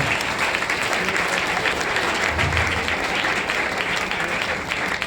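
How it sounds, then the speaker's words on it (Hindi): Sustained loud applause from a crowd, dense continuous clapping that holds steady throughout without letting up. "जोरदार तालियां से, जोरदार तालियां से, जोरदार।"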